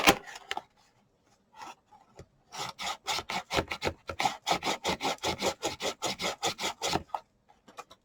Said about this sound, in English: put this down there and just kind of scrape back and forth